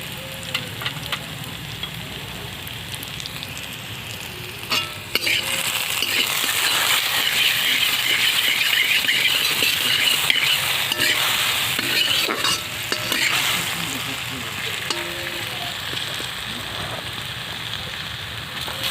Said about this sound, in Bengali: যতক্ষণ আলুগুলো ভাজা হচ্ছে